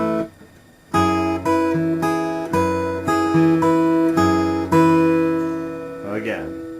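A fingerstyle guitar plays a chord pattern in steady, evenly plucked beats with sustained, ringing chords, close and clear, fading at the end into a short soft noise.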